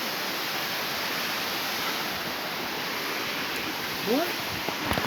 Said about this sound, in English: Oh, the water.